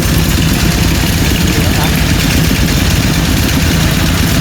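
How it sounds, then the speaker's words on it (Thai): Several water pump engines run steadily, draining floodwater from a flooded temple in Nong Khai, a loud continuous droning rumble throughout with a voice talking faintly underneath. "ก็เร่งสูบน้ำออกจากวัดเนาะ"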